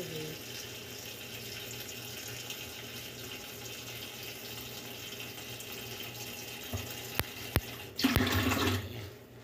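Tap water runs steadily at the sink while dishes are washed, a constant rush with a few sharp clinks of dishware and a louder splashing burst near the end.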